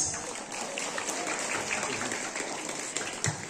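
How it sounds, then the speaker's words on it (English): A crowd at a children's day school sports medal ceremony claps steadily for a junior girls' high jump winner. The applause is a dense, continuous patter at moderate distance with a few sharper claps nearby. "Please clap your hands."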